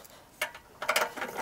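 A socket ratchet loosens a bolt on a Harman pellet stove during end-of-season cleaning, giving a brief burst of quick, close mechanical clicks after a faint tick.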